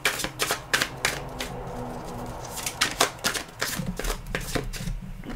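Tarot cards are shuffled close up in a run of quick, crisp riffling and tapping clicks that come in uneven bursts.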